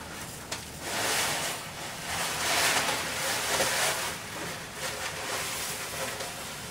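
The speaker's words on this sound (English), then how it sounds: "I'm just going to add the liquid and all." Liquid from a bag pours steadily into a 56-gallon planted aquarium, making a continuous close rushing splash that lasts throughout, with no voices.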